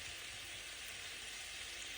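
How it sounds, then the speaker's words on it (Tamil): Half-cooked onion sautéing in a pan gives a steady, fairly faint broadband sizzle with no talk over it. "அப்போ ஒரு அரைப்பதத்துக்கு நாங்கள் அதை வதக்குவோம்."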